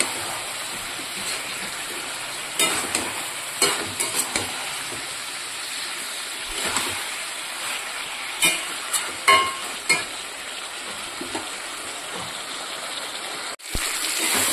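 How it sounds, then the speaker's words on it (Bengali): Meat cooks in a pan with tomato, a continuous loud sizzle and hiss with occasional stirring scrapes and bumps, alone without speech. "মাংসটা মোটামুটি কষানো হয়ে গেছে।"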